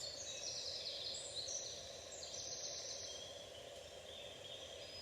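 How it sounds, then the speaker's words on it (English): Birds call and chirp outdoors near trees, ferns and mossy branches, light high tweets drifting in and out over a faint steady background of insects, fairly distant and soft. "listening to the calm of the birds."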